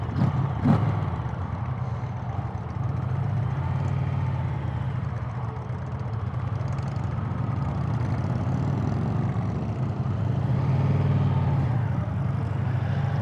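An Indian Pursuit Limited motorcycle being ridden, its engine giving a steady deep drone with low rumble and road noise, constant and close for the whole stretch.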